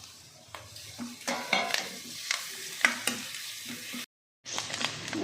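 Onion and crushed garlic frying in a pan, with repeated scraping strokes of a spoon over a soft sizzle, broken by a short gap of silence before the stirring resumes.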